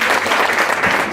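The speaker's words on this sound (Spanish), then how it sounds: "un aplauso a nuestro Señor, por favor" A congregation claps during a Spanish-language church service, making a dense, loud, sustained round of applause that fills the whole short stretch without pause.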